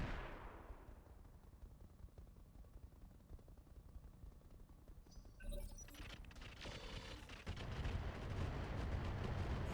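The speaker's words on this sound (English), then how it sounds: "Yeah, they're firing. They're going hard trying to hit my catapult." Weapons pound at a catapult during a siege in a strategy game, with rumbling artillery-like blasts and crackling fire building from a low distant roar to louder bursts near the end, and no voices.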